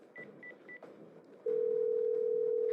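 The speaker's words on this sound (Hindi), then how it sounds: "उसने अपना मोबाइल उठाया और पुलिस का नंबर डायल किया।" A mobile phone dials a number: three quick keypad beeps followed by a steady, loud continuous tone that holds to the end.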